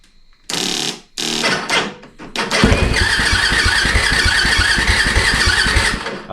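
A 2008 Yamaha WR450F dirt bike with its muffler baffle removed cranks through a few stuttering start attempts, then catches and revs hard with a loud, raspy, continuous roar up close.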